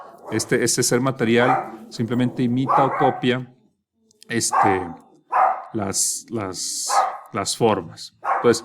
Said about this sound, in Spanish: disculpen por mis perros